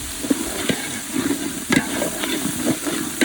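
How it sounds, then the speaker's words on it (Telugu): Ginger garlic paste frying in a pan during village cooking, a steady close sizzle with soft repeated scrapes and clicks of stirring. "ఇప్పుడు అల్లం వెల్లుల్లి పేస్ట్ అనేసి పచ్చివాసన పోయేదాకా మంచిగా వేయించుకోండి"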